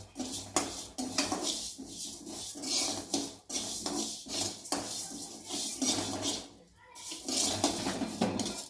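Moong dal dry-roasting in a kadai, its grains rattling and scraping against the metal as a spoon stirs them steadily, with short pauses between strokes.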